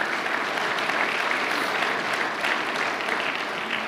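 Steady applause from a church audience fills the space, dense clapping holding at an even level throughout with no talking over it.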